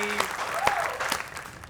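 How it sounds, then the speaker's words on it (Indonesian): A studio audience at a televised cooking show claps, dense applause close by, with a brief voice at the start and sharp clap peaks. "boleh kita berikan tepuk tangan untuk prediksi yang sangat luar biasa dari Memes Prameswari."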